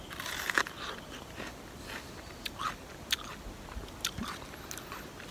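Someone bites into a crunchy white water apple picked from a home garden and chews it up close, giving a run of crisp snaps and crackles between softer chewing sounds in a quiet outdoor setting.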